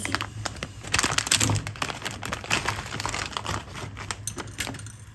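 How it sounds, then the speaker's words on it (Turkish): A Korean ramen packet being opened by hand, with close, irregular plastic crinkling and tearing sounds spread across the clip, heard alone without talk. "Şimdi ramenimizi açıyoruz."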